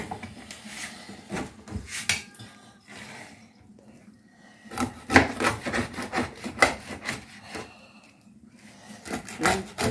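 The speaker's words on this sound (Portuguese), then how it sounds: "Cortando o peixe, vai cortar os dois" Knife cutting through fresh tilapia on a board while preparing a Sunday lunch of tilapia in coconut milk, heard as repeated close scraping, rubbing strokes with short pauses between cuts.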